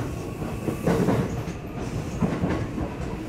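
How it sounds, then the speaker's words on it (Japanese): An Osaka Loop Line train runs along the rails, with a steady rumble and rhythmic clickety-clack wheel beats recurring at regular intervals, heard close from on board with no voices. "This is the Osaka Loop Line train to Tsuruhashi, Kyobashi, and Osaka."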